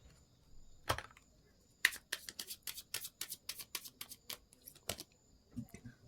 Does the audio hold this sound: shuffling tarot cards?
yes